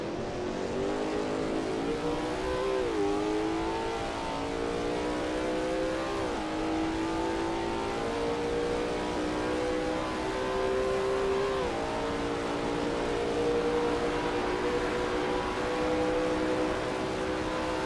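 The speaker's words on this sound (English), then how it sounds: "That ASRL T70 MkII Spyder looks good driving through turn 8." A Lola T70 MkII Spyder race car in a racing video game at Riverside, its engine holding a loud, steady drone with a few brief dips and pitch shifts as it changes gear, with no voices.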